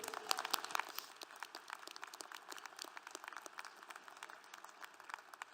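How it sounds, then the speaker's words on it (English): Audience applause for a keynote speaker at a university commencement ceremony, a steady patter of many hands clapping at a moderate distance, fading slightly toward the end. "Please join me in giving one more round of applause to our keynote speaker, Susan McCoy."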